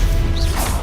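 A Stupefy spell cast in Hogwarts Legacy gives a brief, sharp magical whoosh that snaps into a crack-like impact, loud and close over a dense game soundscape.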